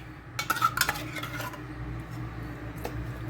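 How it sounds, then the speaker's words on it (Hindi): A metal spoon stirs cream and mayonnaise together in a bowl, giving a cluster of clinking scrapes early on, then quieter, steadier mixing sounds close by, with no voices. "2 चम्मच जो है क्रीम के और 2 ही चम्मच हम मायोनीज के डालेंगे और फिर इनको अच्छी तरह मिक्स कर लेंगे"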